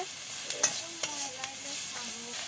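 Ground spice paste with turmeric and dried chilli fries in oil with garlic and dried shrimp, a soft continuous sizzle with a few light knocks of a stirring spoon, fairly close.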